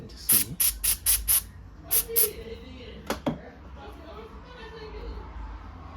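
Short bursts of aerosol spray are aimed at a stuck hinge part of an Acer laptop under repair, about seven sharp hisses in quick succession, then a couple more after a pause, with quiet sounds of handling between them.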